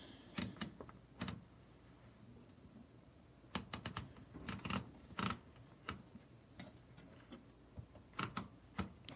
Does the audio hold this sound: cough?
no